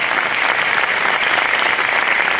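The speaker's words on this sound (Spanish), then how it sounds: "yo quiero pedir un fuerte aplauso para Pablo Poggi con las letras" A dense, steady wash of audience applause fills a tango presentation at the Auditorio Sodre Nelly Goitiño, honouring the lyricist; many hands clap loudly and evenly throughout, with no voices standing out.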